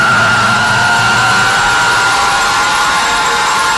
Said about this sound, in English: Carol screams this unholy pod version alarm